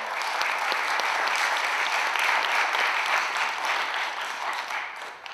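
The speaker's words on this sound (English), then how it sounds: "give him a round of applause" A university event audience gives a round of applause for the interim provost, a sustained, even roar of many hands clapping that fades slightly near the end.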